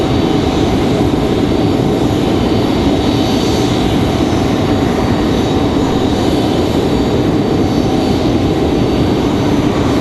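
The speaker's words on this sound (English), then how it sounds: "So this one, American Airlines at 979 coming in from Dallas Fort Worth. 737-800" An American Airlines Boeing 737-800 jet inbound from Dallas Fort Worth lands at Raleigh Durham airport, a loud, steady broadband engine roar holding evenly throughout without voices.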